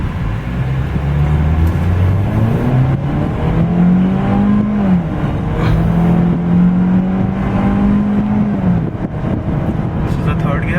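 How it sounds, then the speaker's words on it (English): Ford Fiesta automatic in D mode, floored from a start on an empty road; a loud engine drone climbs steadily in pitch through the gears with short dips at the shifts, and a voice speaks over it. "D mode, I am going to floor the pedal."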